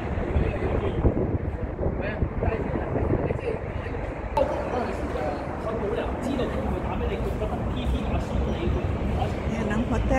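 Wind buffeting across a rooftop at night in Admiralty, Hong Kong, a steady rumbling roar with microphone gusts throughout, while voices talk faintly underneath.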